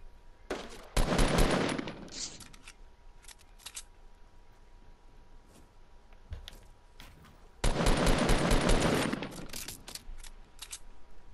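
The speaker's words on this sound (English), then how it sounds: "They're shooting bow." Bow shots from opponents in a battle-royale shooter match, heard as two long dense bursts of sharp cracking impacts, one early and one late, with scattered single clicks and hits between.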